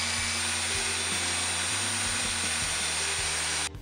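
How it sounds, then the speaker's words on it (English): A belt sander with a 400 grit belt deburrs the ends of aluminum bar blanks, giving a steady loud whirring hiss with faint rhythmic bumps that stops abruptly at the end. "The ends were deburred with a 400 grit belt on the sander."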